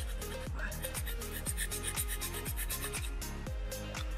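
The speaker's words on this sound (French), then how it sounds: "Donc là je tourne mon ongle, voilà, on lime tout en tournant." A nail file rasps back and forth over gel polish on a fingernail in steady, evenly spaced strokes, close and continuous, with no talking.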